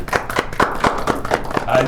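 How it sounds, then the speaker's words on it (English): A few people clap together in a brisk, uneven patter of sharp hand claps, close and moderately loud, lasting about two seconds. "Round of applause for Mary Toyibo."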